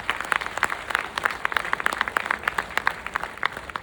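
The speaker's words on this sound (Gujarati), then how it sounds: "એના માટે એકવાર જોરદાર તાળીઓ પાડો." Applause from an audience at a women's association silver jubilee celebration of a Patidar community in Mumbai, many hands clapping in a dense, steady patter that carries on without a break.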